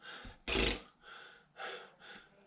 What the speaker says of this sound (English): Sorry, I'm puffing and panting there.